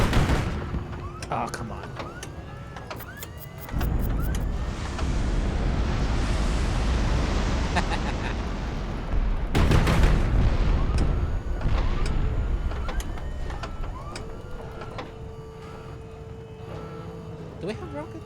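Rocket fire and explosions in the naval air combat game HIGHFLEET, broadband booms and rushing bursts recurring across the span, loud and close, with a brief spoken exclamation among them.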